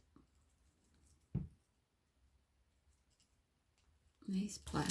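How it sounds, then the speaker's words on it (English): Old, worn pliers snip beading wire, giving a sharp click close by amid soft handling noises, followed by a louder rustle near the end while someone speaks quietly. "I'm going to snip that off that end"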